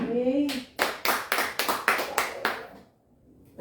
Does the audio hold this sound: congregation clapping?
yes